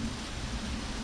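Rain falls outside on an autumn day, a steady, soft, even hiss with no talk over it.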